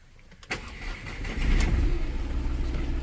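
A Volkswagen Polo diesel with coolant pump and ABS sensor faults cranks and fires after a click, then settles into a loud, close, steady clattering idle.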